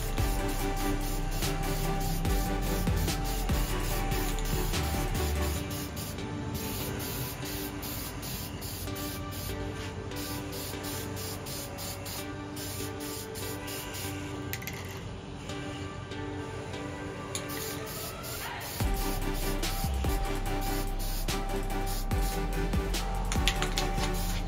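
Steady, loud spray-gun hiss fills a paint booth as welded rear trailing arms for a supercar built from a movie prop are spray painted, running almost continuously for about 25 seconds with brief dips in intensity.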